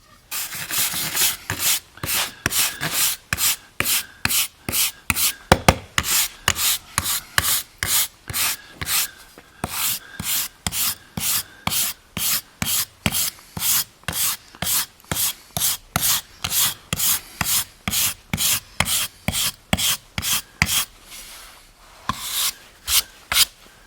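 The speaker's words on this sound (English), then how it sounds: "brush it good and hard and bring out that grain, the color, and the texture" Burnt shou sugi ban wood is brushed hard in quick, regular back-and-forth strokes, a loud rhythmic scraping rasp repeated dozens of times with only brief pauses.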